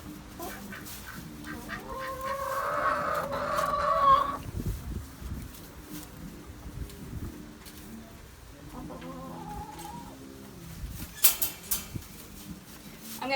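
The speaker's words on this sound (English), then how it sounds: "So the Easter eggers are in the barn, so we're going to grab the Easter eggers." Easter Egger chickens in a barn coop cluck and squawk in short bursts, with a loud flurry early on and scattered calls later, close by amid handling and rustling noises.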